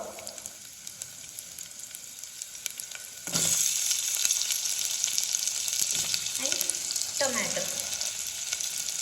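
Chopped onions and potatoes drop into hot oil in a pan and burst into a loud, steady sizzle after a quieter start, with a few utensil scrapes near the end.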